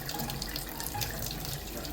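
Water from a foot-operated hand-washing station gushes steadily in a continuous, close hiss and splash that stays even from start to finish, with no talking.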